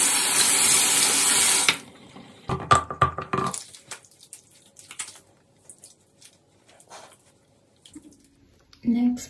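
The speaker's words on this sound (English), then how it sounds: "wash my face" Tap water gushes steadily into a bathroom sink for face washing, loud and continuous at first, then cuts off, leaving soft splashes and handling noises.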